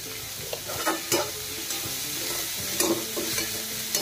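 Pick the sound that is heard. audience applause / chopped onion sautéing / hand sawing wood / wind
chopped onion sautéing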